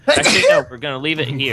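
A single loud, sharp sneeze bursts out close to the microphone, and a voice talks right after it.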